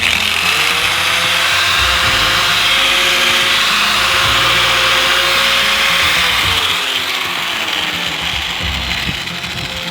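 A cheap Harbor Freight Drillmaster angle grinder, three years old with a bent guard, runs at full speed with a loud, steady high-pitched whine and rough buzzing that holds for about nine seconds before easing slightly at the end.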